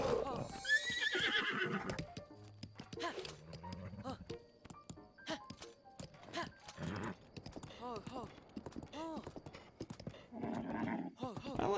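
Zelda's horse in Zelda: Breath of the Wild gives a loud neigh early on, then hooves clip-clop in a steady trot, with someone talking over the later hoofbeats.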